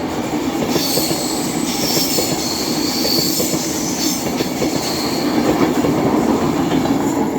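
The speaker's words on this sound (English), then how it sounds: "Now coming through is an Avanti West Coast Class 390 Pendolino running from Manchester Piccadilly to London" An Avanti West Coast Class 390 Pendolino from Manchester Piccadilly to London Euston rushes past at Cheadle Hulme on the West Coast Main Line, a loud steady roar of wheels and rail noise with faint squeal, near and continuous.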